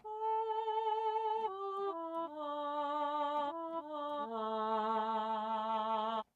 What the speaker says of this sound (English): then we're going to use the M1 female solo voice